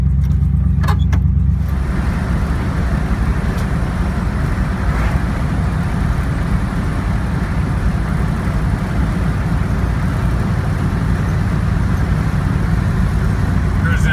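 A 1968 Mercury Montego MX station wagon on the road, its steady low engine and road rumble continuous and close throughout, with a brief burst of other noise at the start.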